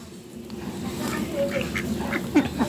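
Several ducks give soft, nasal quacks at close range while pecking at rice, with scattered calls over a low outdoor background and no talking.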